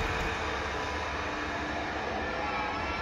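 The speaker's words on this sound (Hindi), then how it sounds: "ऐसी आवाज़ आती है तो हमको पता होता है वो बर्फ़ उठाने वाले ट्रक आए हुए हैं बाहर।" A steady low rumble of heavy snow removal trucks fills the background in Norway, continuous and faint, like engines idling or moving outside.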